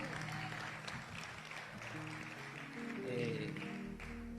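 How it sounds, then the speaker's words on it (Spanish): Applause for the King from a congregation at an apostolic and prophetic summit plenary, a faint, continuous patter of clapping with music tones and murmuring underneath. "Denle un fuerte aplauso al Rey."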